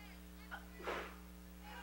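A brief sneeze from a camera operator at a high school varsity football game, a single short burst standing out over steady background hum.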